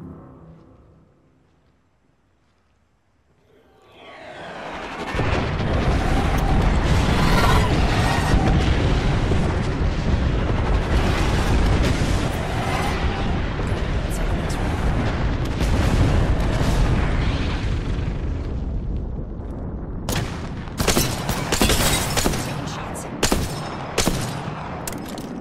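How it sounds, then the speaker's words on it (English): Airstrike explosions in a video game: after a quiet start, a sustained, loud rumbling barrage of booms and blasts rolls on for about fifteen seconds, then gives way to sharper, scattered bursts and pops. "Heads up, we've got an airstrike coming in."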